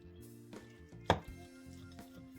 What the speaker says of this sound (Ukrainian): Запіканочка трішки схолола і ми її нарізаємо